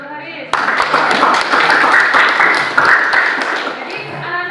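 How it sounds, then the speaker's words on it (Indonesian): A classroom applauds a student named Haris. A burst of clapping from a group starts suddenly and keeps up as a dense, steady patter for about four seconds, then cuts off, with voices under it. "Nah, tepuk tangan buat Haris."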